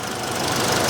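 A 2.3-liter turbocharged four-cylinder engine in a 2025 Ford Explorer Platinum runs at a steady idle, a dense, even mechanical hum and tick with no voices over it.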